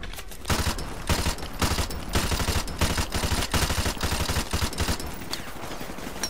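Sustained gunfire from the Call of Duty Modern Warfare Remastered campaign: dense, close bursts of automatic and rifle fire crack in rapid, uneven volleys throughout, with no pauses and no voices.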